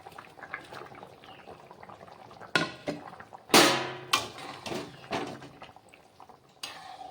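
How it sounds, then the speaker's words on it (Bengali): Pointed gourd, potato and rohu fish curry on the stove, with a lid lifted, metal clatter, splashes of liquid and soft bubbling around scattered pot knocks, close and intermittent. "তরকারিতে দেখুন ফুট এসে গেছে"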